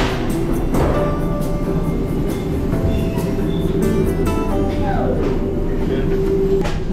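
A tourist train pulls into a station, its steady rumble and rail clatter filling the scene with a brief squealing tone near the end, while voices murmur faintly among other travellers.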